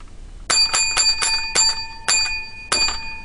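Seven bright, ringing strikes of a small bell, sharp and close, spaced irregularly over a few seconds with long sustained tones.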